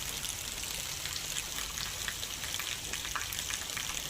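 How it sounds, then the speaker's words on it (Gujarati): Light early-morning rain falls steadily over Veraval, a soft continuous hiss of drops pattering on surfaces with no voices, even in level throughout. "વેરાવળ શહેર તથા ગ્રામ્ય પંથકમાં વહેલી સવારે ધીમી ધારે વરસાદની શરૂઆત થઈ"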